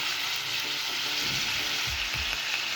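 Chicken pieces stir-fry with onions, Thai chili and garlic for Thai basil chicken, a loud, steady close-up sizzle with occasional stirring scrapes and no talking.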